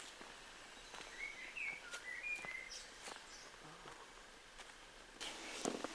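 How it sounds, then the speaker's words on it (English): Scattered bird calls ring out in a sunny woodland with dappled light, a few short whistled chirps around the middle, faint and distant over quiet rustling and the odd footstep. "A bit of bird song here and there."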